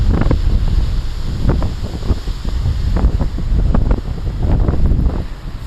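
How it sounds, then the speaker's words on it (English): Gusty wind buffets the microphone by the sea at Beaver Tail Lighthouse, with heavy surf and big waves rumbling underneath in a steady, loud roar that swells and eases. "It's a little windy"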